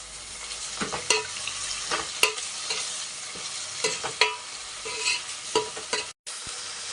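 Onion, kasuri methi and mint fry in a pan for an avarekalu bath. The stirring is brisk, with frequent spatula scrapes and clicks over a soft sizzle, close up, with a brief dropout near the end.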